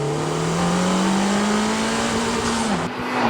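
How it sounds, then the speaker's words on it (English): A 2019 Honda Civic Type R engine pulls hard under acceleration, a loud sustained rising drone that dips briefly near the end as if shifting, heard up close without speech. "Okay, Civic Type-R, let's do this."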